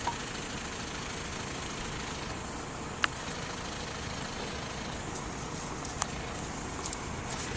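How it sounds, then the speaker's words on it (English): A parked vehicle's engine idles, a steady low rumble that runs unchanged throughout, with a couple of faint clicks and no talk. "Why would anybody keep their engine running like that?"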